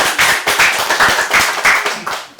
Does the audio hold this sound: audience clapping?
yes